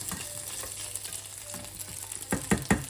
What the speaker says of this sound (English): It's done boiling, so I'm just going to fry it.